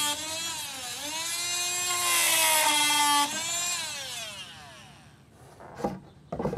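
Oscillating multi-tool fitted with a metal cutting blade, cutting through nails in a decking board: a loud, steady high-pitched buzzing whine that bogs down in pitch as it bites, then stops and is followed by a few faint knocks.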